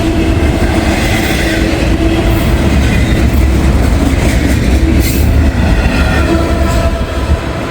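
Intermodal freight train 26C, a daily run out of Jacksonville, Florida, bound for Chicagoland, rolls past close by with a loud, steady rumble and rattling wheel clatter that holds for the whole stretch, with no voices.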